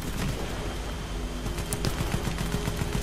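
Rapid gunfire from the online shooter Warface, with dense bursts of automatic shots crackling over a loud, busy mix of game sound; no one speaks.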